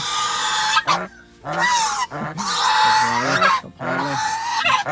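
A gander at a Thai farm honks loudly at close range in several long, harsh blasts separated by brief pauses.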